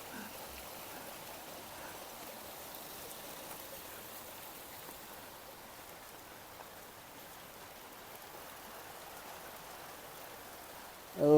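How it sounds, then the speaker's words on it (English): Rain falls steadily outdoors on a rural property with orchids, a soft even hiss that holds at a constant moderate level throughout. "even though it's starting to rain now"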